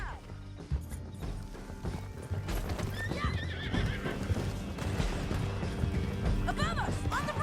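Horses gallop in Red Dead Redemption 2, their hooves clip-clopping in a steady drumming rhythm during a canyon ride. Whinnies, a crash and shouted voices mix in over the hoofbeats.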